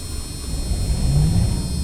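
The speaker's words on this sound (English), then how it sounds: "I'll fire it up quickly." A Magirus Deutz truck engine in Euro Truck Simulator 2 fires up with a steady, loud low rumble and a brief whine partway through, no voices present.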